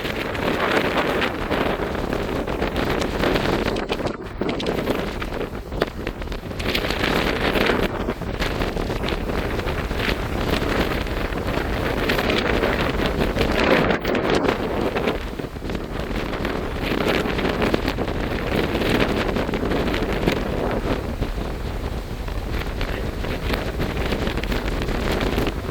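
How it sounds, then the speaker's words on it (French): Steady wind buffets the microphone throughout, a continuous rough roar with gusty swells and no voices. "Aujourd'hui, il y a un peu de vent."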